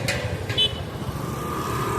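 Night road traffic in Chennai streams past with a steady vehicle rumble and a couple of brief car horn toots near the start.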